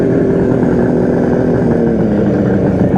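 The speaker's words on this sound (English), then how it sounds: "Let's see if it'll fire up without using the enrichener." A cold motorcycle engine runs with the enrichener on, a loud, close, steady chugging rumble that holds evenly throughout.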